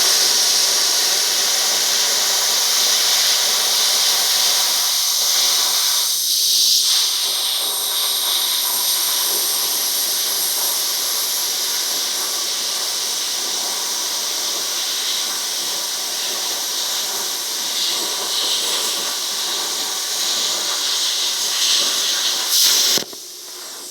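A Lotos LTP 5000D plasma cutter at 50 amps slicing through half-inch steel plate, a loud, steady hissing roar of air and arc that holds unbroken for over twenty seconds before cutting off abruptly.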